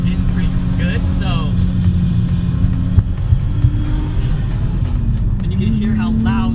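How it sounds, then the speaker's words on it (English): Infiniti G35 sedan with a manual swap and lightened flywheel, its engine droning steadily up close with a low rumble and slight pitch changes as it runs. "And you can hear how loud the flywheel is."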